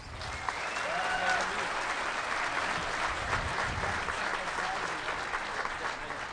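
Audience at the DEF CON 17 hacking conference closing ceremony clapping in a large hall, a dense, continuous wash of applause at moderate distance lasting several seconds without letup.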